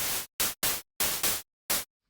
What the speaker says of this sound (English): this is just going to be white noise that we can control the amplitude envelope of